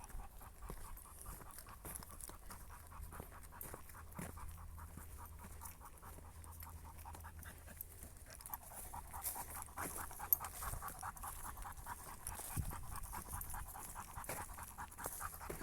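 A dog panting steadily and quietly on a forest walk, soft rhythmic breaths under faint outdoor ambience with no talking.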